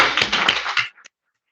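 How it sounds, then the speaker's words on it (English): Short burst of applause from a small audience at a local council candidates forum, brisk hand claps lasting under a second before cutting off into silence. "let's give a round of applause and wish them the best of luck"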